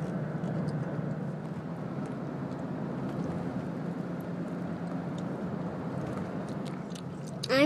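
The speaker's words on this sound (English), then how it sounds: "I'm chewing my gum" Gum being chewed close up, a soft, steady low rumble of mouth noise, ending with a brief louder burst at the end.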